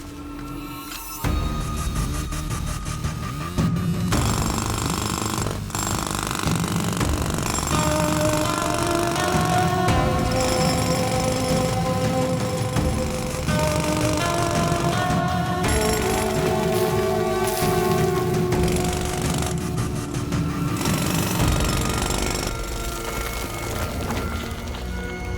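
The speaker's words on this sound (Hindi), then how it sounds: "उसको ड्रिल करके खोल दो।" A drill grinds continuously and loudly to break open a hidden chamber in an Indian film scene, a dense mechanical whine and rattle running almost the entire length with shifting pitch.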